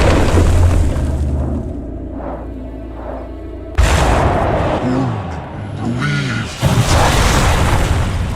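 A Wall of Fire sorcery spell cast in Conan Exiles erupts with a loud, deep whooshing roar and booming bursts, fiery crackling swelling in several waves.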